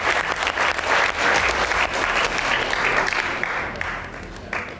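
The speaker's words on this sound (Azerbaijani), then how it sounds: "Ağstafa Gənclər Evinə hamımız alqışlayaq dostlar" Audience applause at the Şən Gənc comedy contest season finale, a dense, steady clapping from a large crowd that continues loud and close for several seconds.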